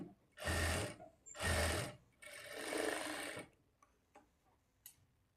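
A sewing machine stitches folded blouse lining cloth in three loud running bursts, then stops, leaving a few faint clicks and handling taps.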